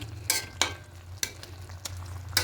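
A spatula stirring cabbage chicken curry after water has been added, with a few scraping strokes against the pan over a low, steady simmering sizzle, close and quiet.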